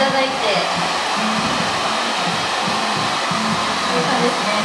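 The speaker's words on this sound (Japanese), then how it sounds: "ドライヤーが長い場合はちょっとここを持っていただいて" A hair dryer blows steadily and loudly up close while hair is styled with a round roll brush, the airflow unbroken from start to finish.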